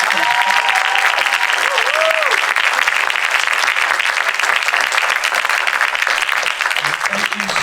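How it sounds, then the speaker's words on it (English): Audience at a question-and-answer panel gives a big sustained round of applause, loud and steady throughout, with a few whoops and voices briefly audible within it. "Let's just give one more big round of applause for all these people."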